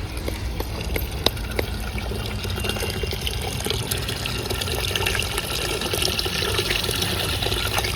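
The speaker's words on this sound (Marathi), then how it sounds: "रश्याला आळणी पाणी वाटायचं चाललंय" Water pours steadily into a pot for mutton curry cooked on a wood-fired stove, a continuous splashing and trickling with clattering of utensils, no voices.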